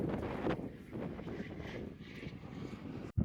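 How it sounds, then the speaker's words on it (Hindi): Strong wind buffeting the microphone beside the Delhi-Mumbai Expressway, with a steady low roar and gusty swells, briefly cutting out near the end. "काफ़ी तेज़ हवा चल रही है।"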